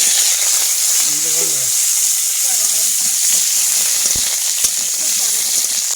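Pointed gourds fry in hot oil in a wok, giving a steady, loud hiss and sizzle throughout with a few faint clinks.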